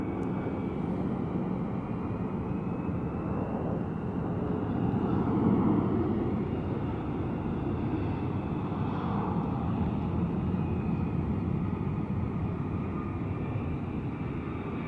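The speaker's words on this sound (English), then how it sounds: "Oh yeah, the Southwest Airlines is moving now." A Southwest Airlines jet moves at Salt Lake City's international airport, its engines giving off a steady, broad rumbling roar that holds evenly throughout at a moderate distance, with no speech.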